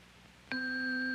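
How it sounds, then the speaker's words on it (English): A struck tuning fork rings out suddenly and sustains a steady, clear pure tone with faint overtones, alone and undecaying to the end. "This tuning fork seems to make the same sound as the guitar string I plucked."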